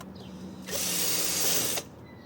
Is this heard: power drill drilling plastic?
yes